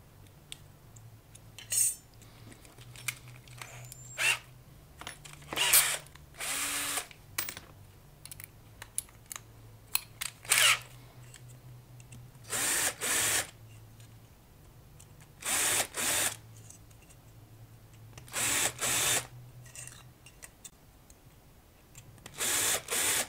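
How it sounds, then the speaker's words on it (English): A rotary tool smooths jagged drilled holes in a metal electrolytic capacitor clamp for an amplifier. It makes repeated short, harsh grinding bursts separated by pauses, over a low steady hum, close by and with no talking. "it's time to smoothen those holes from the other side,"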